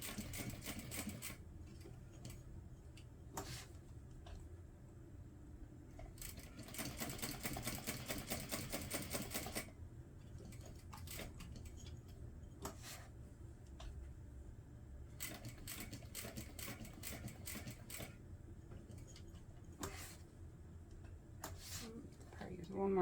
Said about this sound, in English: Now I'm just going to sew around the flap.